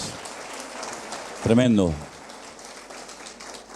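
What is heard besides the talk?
congregation applauding in church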